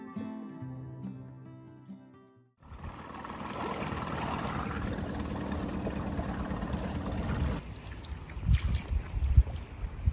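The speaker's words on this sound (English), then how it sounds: "take the dinghy for a spin" A dinghy's small outboard motor drones steadily and fairly loud while cruising around Kāneʻohe Bay, Hawaii, with water and wind noise, after a quieter stretch at the start and some bumps near the end.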